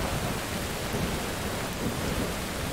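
Rain and thunder in the horror video game Unholy: a steady wash of heavy rainfall with a deep rolling thunder rumble underneath, continuous and moderately loud, with no talking.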